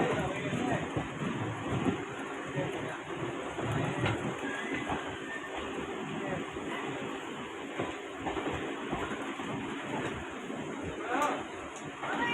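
An almost empty passenger train rolls along the rails near Purulia at sunset, a continuous loud rumble and rattle from inside the carriage with rhythmic wheel clatter throughout.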